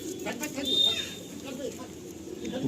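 Pigeons in a pigeon loft coo in low, throaty bursts close by while people talk over them.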